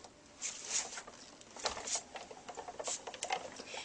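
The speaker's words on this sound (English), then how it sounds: "then you simply run it through your Cuttlebug" An embossing folder sandwiched between A and B plates is cranked through a Cuttlebug die-cutting machine, producing an uneven patter of small clicks, creaks and ratcheting taps, close but faint, with no talking.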